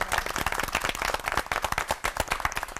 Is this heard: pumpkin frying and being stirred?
no